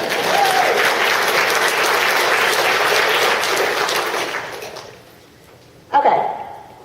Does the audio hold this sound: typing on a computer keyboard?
no